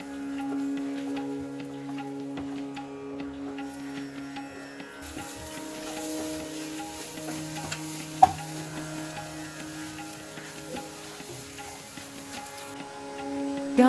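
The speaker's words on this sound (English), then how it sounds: "Fry in high flame for 6 minutes" Egg mixture with chopped coriander frying over a high flame, a steady soft sizzle with occasional stirring scrapes and one sharp tap, continuous and close with no talking.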